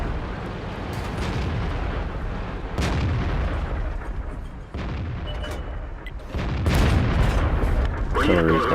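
Artillery shells firing and exploding in World of Tanks, several heavy booms and rumbling blasts at irregular intervals over continuous battle noise, with a voice talking briefly near the end.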